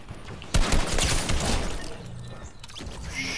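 Rapid assault rifle fire in a video game, a loud dense burst of shots starting abruptly and continuing with sustained crackling and impacts before trailing off.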